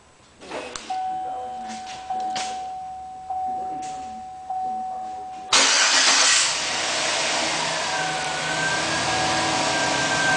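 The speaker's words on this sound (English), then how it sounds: "Starting the vehicle." A 2007 full-size Chevrolet Silverado pickup engine cranks and catches on remote start, settling into a steady idle, after several seconds of quiet electronic chiming.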